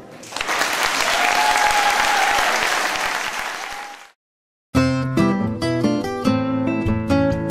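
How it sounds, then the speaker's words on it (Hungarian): An audience at the Erkel school's year-end concert applauds loudly and steadily for about four seconds, then after a short silence a bright piano passage begins. "Az Erkel iskola évvégi koncertjét nagy tapssal jutalmazta a közönség."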